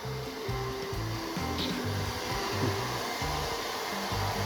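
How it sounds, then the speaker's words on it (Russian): A hair dryer blows steadily on a Spitz dog being groomed at home, with a constant close whooshing roar, while soft low rhythmic rubbing sounds pulse underneath. "тебе не нравится тот дядька Фен"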